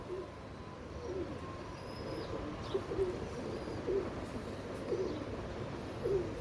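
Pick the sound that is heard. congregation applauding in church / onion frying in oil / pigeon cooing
pigeon cooing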